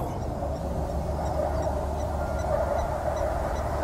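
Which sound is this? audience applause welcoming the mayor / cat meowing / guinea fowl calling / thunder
guinea fowl calling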